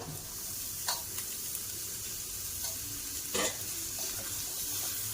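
Chopped ghiya (bottle gourd) and onion with turmeric frying in a pan, a steady soft hiss with a few brief clinks of stirring, no voices.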